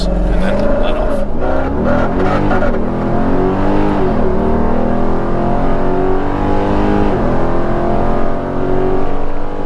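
A Dodge Durango SRT 392 V8 launches at full throttle, its engine roaring loud and close as revs climb and drop through gear shifts, with brief tire noise at the start.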